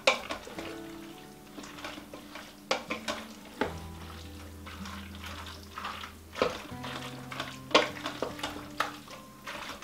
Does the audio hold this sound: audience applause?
no